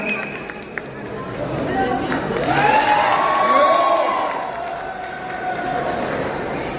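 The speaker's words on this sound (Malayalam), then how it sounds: "ആ കയ്യടികൾ ആ ക്യാരക്ടറിനും കൂടി ഉള്ളതാണ് മാം" A crowd applauds and cheers at a stage event in a Bahrain shopping mall, the clapping and shouts swelling to a loud peak midway and then settling into steady applause, with a voice speaking over it.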